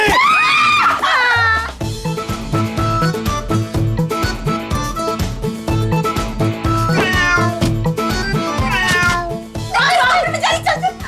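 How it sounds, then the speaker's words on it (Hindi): A cat meows and caterwauls loudly and repeatedly in a domestic scene from a Hindi TV drama, its cries mixed with several people talking and exclaiming. "बिल्ली मुझे काट जाएगी, निकालो इसको।"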